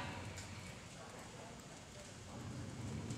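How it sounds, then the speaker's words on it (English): Horse hooves trotting in a dressage arena as the rider is asked for a very small, collected trot, the steady clip-clop running continuously at moderate distance over a dense noisy background. "now ride a little tiny trot"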